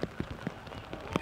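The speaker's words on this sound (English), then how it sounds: "the rain just kind of came out of nowhere" Rain falls on a disc golf course during a tournament final, heard as scattered close patters and drops against a steady soft wash, with no voices.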